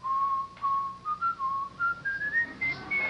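Someone whistles a bright, wandering melody, the notes stepping gradually higher, close and clear with short breaths between phrases.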